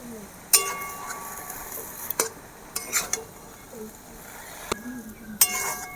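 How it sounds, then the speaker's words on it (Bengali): Boiled potato being mashed and stirred together with beetroot and carrot in a bowl, with sharp clinks of a utensil against the dish at a few scattered moments between quieter mixing sounds. "আলুর সাথে বিট গাজর সব এভাবে মিশিয়ে নিতে হবে।"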